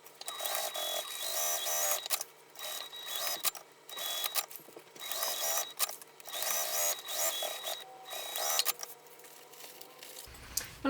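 A sewing machine stitches across the bottom of a small fabric tote bag, running in steady rattling stretches close by. Brief pauses mark the back stitches, and a thump comes at the end.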